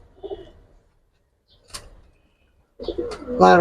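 Silver military jabra pankhi pigeons give soft low coos in two short bursts, near and moderately loud, with a quiet gap between them.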